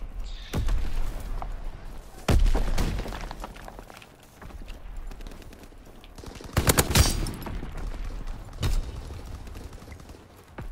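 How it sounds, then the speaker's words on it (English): Video game combat with a grenade launcher firing among other weapons, bursts of sharp loud blasts and rattling gunfire in clusters, with quieter mechanical clatter between shots. "Shoot your grenade."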